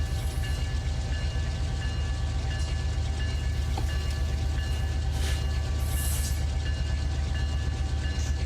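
A train rumbles along in the Run 8 rail simulator, a continuous low engine drone with faint rhythmic rail clatter, steady and fairly close, no talking.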